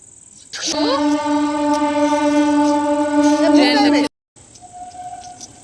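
A train rumbles past close by, loud and steady for several seconds, with strong horn-like tonal hum before cutting off abruptly; faint background noise follows.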